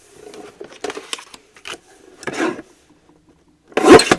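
Close scraping and rubbing strokes of a blade or trimmer cutting small pieces of paper for a 5x7 mini album insert, in irregular short bursts with a stronger final pass.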